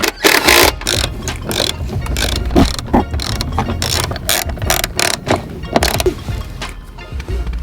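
A hand ratchet turns a 10 mm bolt while a seat belt is installed in a Kia Stinger car, with rapid bursts of close metallic clicking in an uneven rhythm.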